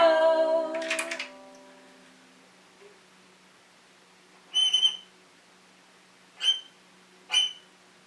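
High, thin squeaky tones played on a viola in short separate bursts, imitating a mouse's squeak, after a fading lower note at the start.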